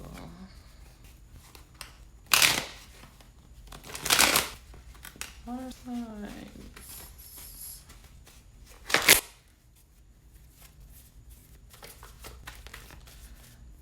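Tarot cards are shuffled in a few quick riffling bursts, close and crisp, separated by quiet pauses, with a brief spoken phrase between them.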